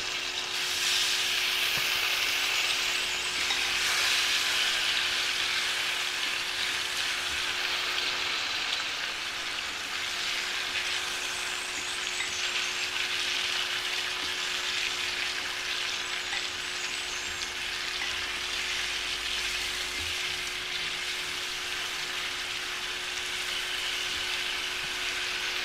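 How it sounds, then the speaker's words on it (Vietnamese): Fish marinated for fifteen minutes fries in a pan for a clay-pot braise, giving a steady, close sizzle with crackling spatter that runs unbroken throughout, with no voices. "giờ bắt đầu mình chiên cho nó vàng"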